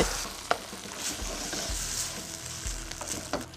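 Sliced pork neck stirred into Thai red curry with Thai eggplant sizzling in a hot pan, a continuous bubbling fry punctuated by a few sharp knocks of a utensil.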